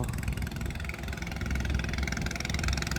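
The engine of a longtail fishing boat on the Pattani River drones loudly and steadily at a constant pitch throughout, with no pauses.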